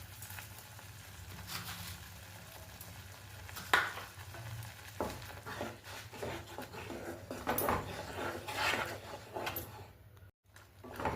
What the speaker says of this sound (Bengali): বেশ কিছুক্ষণ আমরা এইভাবে নাড়তে থাকবো।